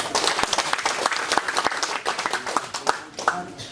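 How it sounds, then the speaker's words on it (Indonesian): An audience at a district working visit by the regent and deputy regent in Windesi claps steadily, a dense, fairly loud applause with no break. "mari kita berikan tepuk tangan"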